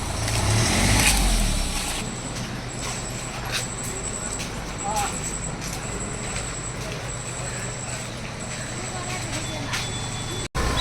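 A car engine starts on a rainy morning, with a loud low rumble at first that settles into a steady idling drone. People talk close by.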